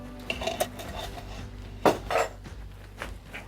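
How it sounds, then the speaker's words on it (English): Bacon grease being stirred in a metal pan, with a utensil scraping and clinking against the pan in a few distinct, close knocks and rubs, and no talking. "Going to stir that around."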